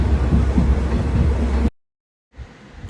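A passenger train runs on its rails, giving a loud, steady rumble with rhythmic clatter for most of the time, then a brief silence and a quieter return of the running noise.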